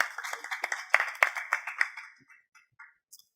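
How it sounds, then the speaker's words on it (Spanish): A small group claps briefly, the scattered applause fading out after about two seconds, close by with no talking. "vamos a darles un fuerte aplauso, por favor"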